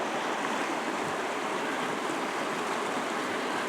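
Ridyard Creek flows steadily beneath a bridge beside the Lost Horse Creek campground in Banff National Park, a loud, close, continuous rush of water with no breaks and no voices.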